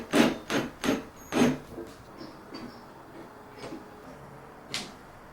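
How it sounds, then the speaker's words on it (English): Drill or bit enlarging pilot holes in wood during a bike workshop build, heard as four close, loud grinding bursts in quick succession followed by quieter scraping and one last brief burst. "Gonna make these pilot holes a little bit bigger"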